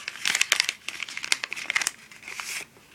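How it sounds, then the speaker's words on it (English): Paper being folded and creased into a small seedling pot, giving close, crisp crinkling and rustling in quick bursts for a few seconds with no talking. "Take this flap, fold it up, crease, turn it around, fold this up, crease, and then open it up."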